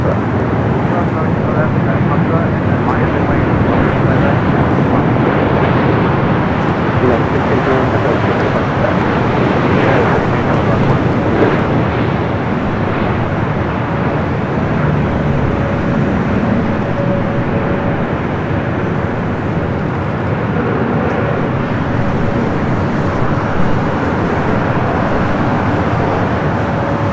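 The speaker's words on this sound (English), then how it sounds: "Delta flight 8, A350-900 coming from Tokyo, Haneda." A Delta Airbus A350-900 airliner roars steadily at LAX airport as a constant broad engine rumble, loud and sustained throughout, while someone talks over it.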